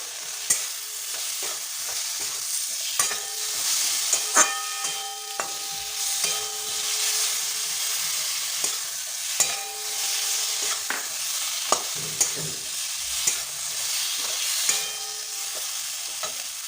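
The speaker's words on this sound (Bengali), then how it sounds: "ভালো করে নাড়াচাড়া করে নিতে হবে এবার আমি একটু কাশ্মীরি লঙ্কার গুঁড়ো দিয়ে দিলাম" Spoon stirring fish curry with potato and eggplant in a pan as Kashmiri chili powder is added, steady frying sizzle under repeated sharp scrapes and knocks, close and alone with no talk.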